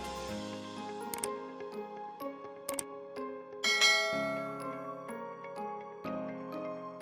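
A bell-like notification chime rings out in a series of bright, ringing metallic tones, struck several times with lingering sustain and no voices.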